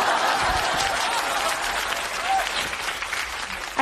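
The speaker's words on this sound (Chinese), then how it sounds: "街坊邻居还鼓掌呢" Neighbours applauding in a dense burst of clapping that runs for a few seconds, loud and close, with a light crowd murmur beneath.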